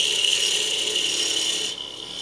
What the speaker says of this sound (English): Come in with the parting tool.